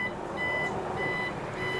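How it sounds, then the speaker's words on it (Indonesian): A solar inverter sounds its overload warning at about 118% load: steady, repeated electronic beeps ring out over a constant humming background, with no talking. "Tapi inverter saya udah bip bip bip bip gitu."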